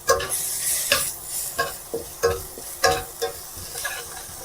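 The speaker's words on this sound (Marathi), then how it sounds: "आता कांद्यामध्ये आपण आलं लसूण पेस्ट घालू आणि ती परतून घेऊ" Ginger-garlic paste sautéed with onions in a pan for dried bombil curry: a soft sizzle under a regular series of spoon scrapes and knocks, close-up with no one talking.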